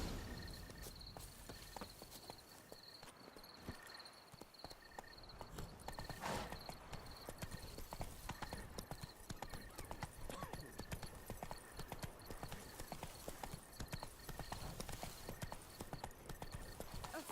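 Horse hooves clip-clop steadily and continuously in a busy, noisy scene, the rhythmic clopping blended with a constant high whine and background clatter.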